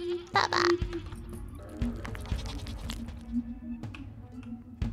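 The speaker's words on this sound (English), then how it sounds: "A ghost goat!" A ghost goat in the horror game Sally Face bleats in a short, eerie burst near the start, then low droning ambience and scattered thumps continue.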